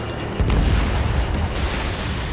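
A missile launches and detonates during aerial combat in Ace Combat 7, a dense, loud low-end boom and rumble that swells and sustains across the moment without voices.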